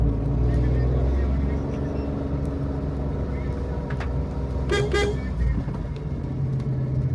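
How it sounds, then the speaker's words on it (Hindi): A car labours up a steep mountain road in first gear, its engine a steady low drone throughout, with a couple of brief horn-like toots midway. "फर्स्ट गियर पे गाड़ी चढ़ रही है यहाँ।"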